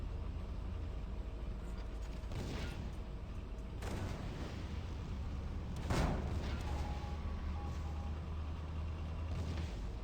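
Several heavy booms of video-game mortar fire go off at irregular intervals over a constant low rumble, like mortar rounds landing nearby in a battle.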